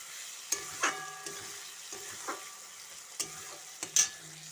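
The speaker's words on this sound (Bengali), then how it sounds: "এবারে আমি পেঁয়াজটা ভাজা হয়ে গেছে লাল হয়ে" Onions frying in a pan for a country chicken curry, a quiet steady sizzle broken by several sharp clinks and scrapes of a spoon stirring, close by.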